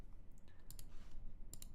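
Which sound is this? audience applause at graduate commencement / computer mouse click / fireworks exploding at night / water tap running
computer mouse click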